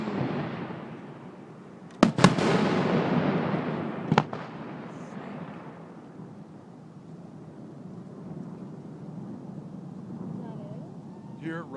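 Fireworks at a Hayden 2012 display boom and crackle at a distance, with two sharp bursts early on followed by rolling rumbles that fade, while people talk excitedly nearby.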